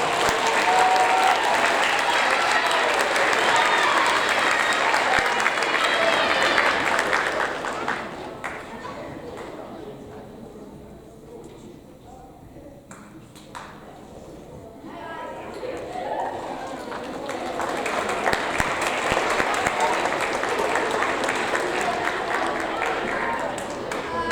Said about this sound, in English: Let's give these fine young students a great big round of applause.